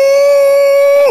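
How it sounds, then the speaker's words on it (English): Wolf howl playing from a TV: one loud, steady, sustained tone held for about a second before dropping away at the end. "Did I just hear a howl? That must have been my TV."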